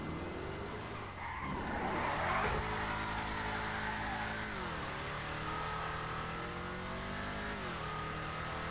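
A car drives in the Grand Theft Auto Online video game, its engine revving and shifting pitch up and down with a brief tire skid, loud and close throughout.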